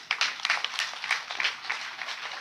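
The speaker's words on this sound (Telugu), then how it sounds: "చప్పట్లు కొట్టాలా" An audience claps during a Telugu Christian sermon on the birth of Jesus: a short, faint patter of scattered hand claps from a hall crowd.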